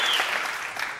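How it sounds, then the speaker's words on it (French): A television studio audience applauds Axelle Red with steady, dense clapping that fills the room briefly and stays even throughout. "Applaudissements pour elle"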